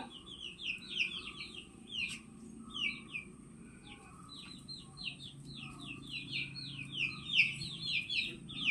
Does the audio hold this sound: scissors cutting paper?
no